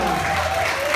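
A brief burst of clapping from the audience at a ballroom dance show, dense and close, with a low musical hum beneath it.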